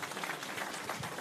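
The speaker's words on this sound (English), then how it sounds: "another round of applause for him" A round of applause fills a hall at an economic outlook event, steady dense clapping from a crowd with no gaps, fairly faint and continuous throughout.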